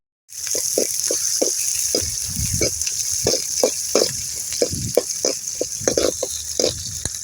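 Green chilies dropped into hot oil for a potato and egg thokku, a close, continuous sizzle with rhythmic crackling pops and spatters, alongside spices and onions in the pan.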